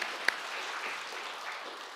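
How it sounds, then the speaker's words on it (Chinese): A church congregation applauds in a steady, moderately distant wash of clapping with one sharper clap near the start. "如果你相信的话，可以拍手感谢神。"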